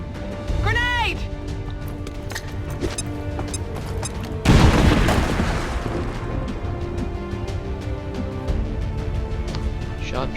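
A grenade detonates in the video game XCOM 2 with a loud sudden burst that rolls off into rumbling debris. Scattered shots and game effects come before it, and voices talk over the scene.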